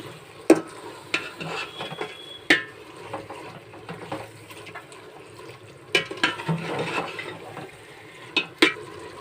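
Turmeric and chili powder are stirred into a pulav mixture in a pan: soft, scraping stirring with scattered sharp knocks of the spoon against the metal, over a low sizzling background, close and with no speech.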